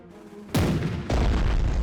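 Two heavy video game cannon blasts from Strategic Mind: Fight For Freedom boom in quick succession, each leaving a long rumbling roar that fills the space.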